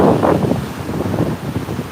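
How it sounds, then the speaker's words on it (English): Strong southeast wind gusting across the beach at Ponte Vedra Boulevard, roaring and buffeting the microphone in uneven bursts over a steady wash of surf. "now that the southeast winds have picked up"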